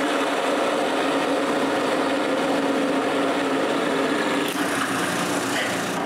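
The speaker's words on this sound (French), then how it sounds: "puis je perce le trou" A drill bores a hole through wood for a broom-handle leg of a wooden tripod, producing a steady, close, whirring grind that shifts in tone near the end.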